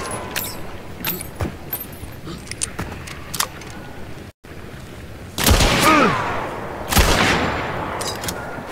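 Shotgun blasts in a video game: a few loud, sharp booms spaced a second or so apart in the second half, preceded by lighter clicks and scattered game noise, with no voices.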